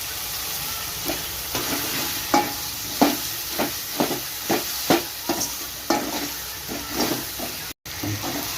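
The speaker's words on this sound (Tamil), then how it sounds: "வெங்காயம் தக்காளியோட சேர்த்து கருணக்கிழங்கு சேர்த்து நல்லா மிக்ஸ் பண்ணி வதக்கிக்கிங்க" Elephant foot yam is sautéed with onion and tomato in a pan: a soft frying sizzle under a regular series of scraping stirs, about two per second, close and clear with no talking.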